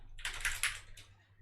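Keys clatter in a quick burst of typing on a computer keyboard, close and fairly quiet, with a short pause before a final few strokes; no talking.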